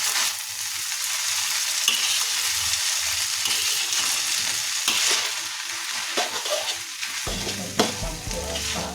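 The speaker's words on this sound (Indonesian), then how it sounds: "Aduk semuanya." Rice vermicelli fried with meatballs and carrot stirred in a pan, a steady sizzle with scraping and clinking of the spatula throughout, close and fairly soft.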